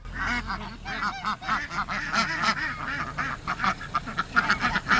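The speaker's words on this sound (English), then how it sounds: "Why do I have Turkey in the duck pen?" Ducks in a duck pen, with a turkey also present, quack loudly in a busy overlapping chorus of honking calls, close by and continuous.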